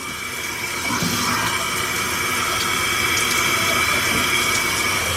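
Hot water gushes steadily from a tap in a plumber's job, a loud continuous hiss and splash with a faint hint of steam, building slightly after the first second and holding level without talk.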